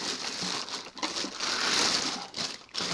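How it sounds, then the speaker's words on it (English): Plastic bag and styrofoam packing crinkling and crunching as a stage wash light is unpacked, a close, continuous rustle with brief pauses lasting about three seconds. "it's got some styrofoam packing on it, and it's in a plastic bag"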